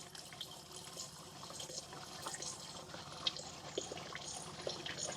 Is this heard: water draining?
yes